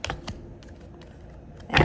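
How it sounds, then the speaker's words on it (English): Tarot cards shuffled by hand, a few soft riffling bursts near the start and a louder, close card-riffle flurry at the end, with no talking. "Let me shuffle for you guys for real."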